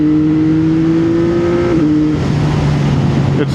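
A stock CFMOTO 675SS sport motorcycle engine runs loud and close, holding a steady tone with a clear shift in pitch midway, like a rev changing or a gear change.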